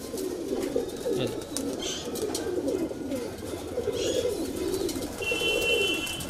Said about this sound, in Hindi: ये वहाँ के कल परे कबूतर हैं, 20 पर काले